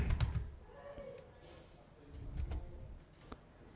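Keys clack on a computer keyboard as a command is typed into a Linux terminal, a few scattered soft taps and clicks close by at low volume, with no talking.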